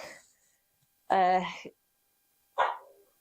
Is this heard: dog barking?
yes